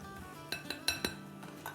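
A spoon clinks against a bowl while canned mixed fruit of grapes, peaches, pears and cherries is stirred in syrup, giving several sharp, close metallic taps in a short quiet stretch.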